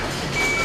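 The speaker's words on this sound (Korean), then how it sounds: "뭔가 심상치 않은 경보가 울린다." A warning alarm beeps from a parcel sorting machine at a busy logistics center during the holiday rush. A single thin electronic tone rises over a dense wash of conveyor and machinery noise, lasting only an instant.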